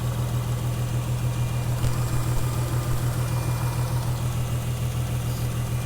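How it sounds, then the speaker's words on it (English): A warmed-up Infiniti Q50 idles with its cooling fan running when it should be off, giving a steady close engine hum under a continuous airy whir. "I don't think the fan should be going right now."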